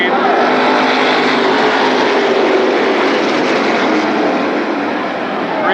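Mini Indy race cars at Berlin Raceway roar off at the green flag, a dense, continuous engine drone filling the track with steady loudness while crowd or announcer noise blends underneath.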